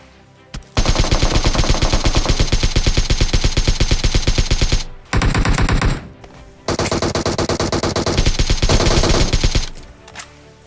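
An AKM assault rifle fires long full-auto bursts in PUBG Mobile, rapid loud shots in three sustained strings separated by short pauses.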